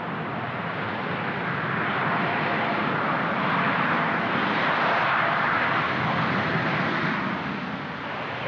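Steady, broad jet roar from a Boeing 787 at Toronto Pearson airport, sustained and fairly loud for the whole stretch with no talk.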